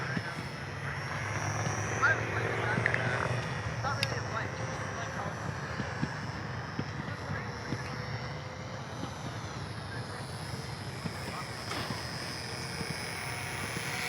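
A small Eachine Mini Cessna micro RC plane flies outdoors with a steady, thin propeller and motor whine over continuous background noise; people talk at times.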